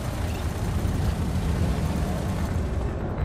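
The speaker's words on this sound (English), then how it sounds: "The fighter is destroyed" A fighter ship blows up in the space combat game Elite: Dangerous, a dense, sustained rumbling blast that holds at steady loudness throughout, with no talk over it.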